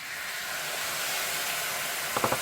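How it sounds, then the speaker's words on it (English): A steady, loud hiss of wine sizzling in a hot pan with risotto rice fills the clip, with a few brief clicks near the end. "That sizzle is burning off the alcohol"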